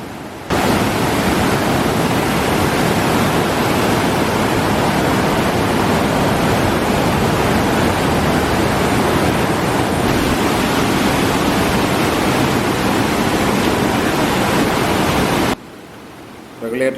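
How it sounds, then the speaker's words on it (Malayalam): Heavy monsoon flood water roars through the fully opened shutters of a regulator-cum-bridge in Kerala, a loud, dense, unbroken rushing that fills the scene for about fifteen seconds before cutting off. "ഈ രീതിയിൽ വെള്ളം വരുമ്പോൾ മൊത്തം ഷട്ടറുകളും മുഴുവനായിട്ട് പൊക്കി വെച്ചിട്ടുണ്ട്."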